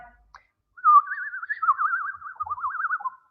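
A person whistles a high, warbling trill in imitation of a small songbird, one continuous wavering phrase lasting a couple of seconds.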